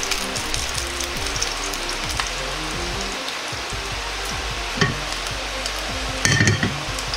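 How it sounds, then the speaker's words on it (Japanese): Aromatics hit hot oil in a frying pan for chili sauce chicken, giving a loud, constant close sizzle broken by scraping stirs and a few sharper clatters of the utensil against the pan. "薬味を入れて炒めていきます"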